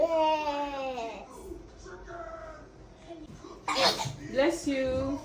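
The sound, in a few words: child sneezing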